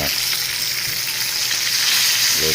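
Tilapia frying in hot oil in a pan, giving a loud, dense, continuous sizzle heard up close with no talking.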